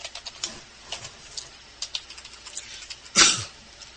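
A formula is typed on a computer keyboard, with light, irregular key taps close by and one louder clack near the end, without any talk.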